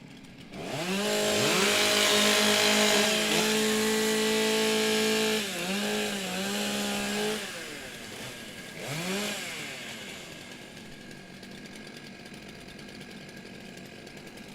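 Several chainsaws rev and idle loudly at a STIHL Timbersports women's and rookie championship in New Zealand, engines rising and dropping in pitch together before tapering to a quieter idle under crowd noise.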